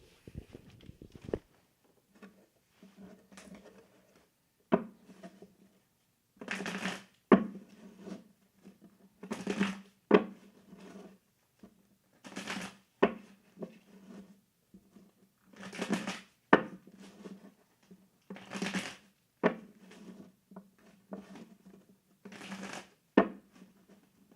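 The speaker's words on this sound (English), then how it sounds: "I'm now going to shuffle my tarot cards" Tarot cards being shuffled in repeated short riffling bursts with pauses between, close and fairly quiet, with no talking.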